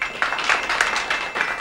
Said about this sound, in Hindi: अब आप सब लोग रामदीन के लिए तालियां बजाइए